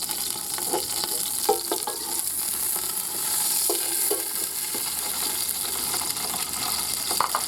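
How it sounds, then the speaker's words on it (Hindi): Desi ghee heating in a handi for gajrela gives a steady sizzle and crackle close by, with a few soft utensil taps scattered through and no talking. "एक हांडी में देसी घी डाल देंगे।"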